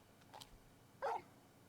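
Torgal, a large dog in the video game Final Fantasy XVI, gives a couple of faint short yips followed by one sharper, louder bark, all quiet and brief against a low background.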